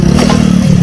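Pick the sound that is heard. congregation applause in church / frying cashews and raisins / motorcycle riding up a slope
motorcycle riding up a slope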